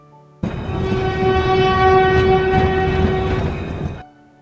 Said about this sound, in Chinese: 对了，火车，跟着老师读火车，火车